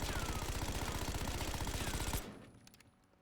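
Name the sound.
gunfire in video game Black Ops 6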